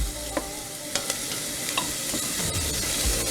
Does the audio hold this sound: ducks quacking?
no